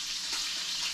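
Wild hog meat frying in a pan, a steady continuous sizzle with soft crackle, close and fairly loud throughout, no voices.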